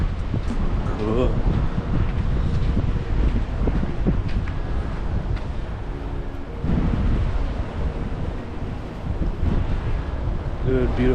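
Steady wind blows at Ocean Beach in San Diego, a broad continuous rush with surf and a distant ship nearby, loud and constant throughout with faint voices now and then.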